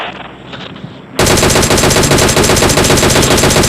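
Rapid automatic gunfire rings out in a shooting video game. A dense, loud burst of evenly spaced shots starts abruptly after a quieter second of background noise and continues unbroken to the end.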